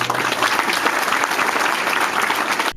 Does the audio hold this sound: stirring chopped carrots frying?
no